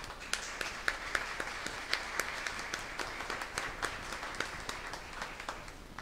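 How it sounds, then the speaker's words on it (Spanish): Applause for the staff of the Aguas de Facatativá water company at an accountability report event: a modest, fairly quiet crowd clapping, with distinct individual claps audible in the mix. "para quienes desde este lugar doy un aplauso especial"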